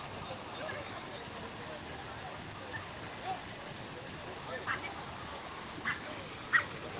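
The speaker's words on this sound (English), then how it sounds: "What do you think of our little baby ducks?" Baby ducks quacking at Disney's Animal Kingdom, a few faint scattered calls rising over steady outdoor background noise, the last one slightly louder.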